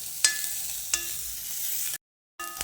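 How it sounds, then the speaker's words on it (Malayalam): Shallots sautéing in hot oil with mustard seeds for a chutney, a bright continuous sizzle with a few sharp spoon taps against the pan, close up, briefly cut to silence near the end. "ഇനി ഇത് നന്നായിട്ടൊന്ന് വഴറ്റി കൊടുക്കാമേ."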